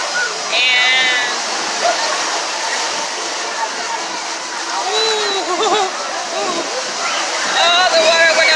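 Ocean surf washes and splashes over a person standing in the water at a beach, a steady broadband rush of breaking waves and sloshing, with a voice speaking over it.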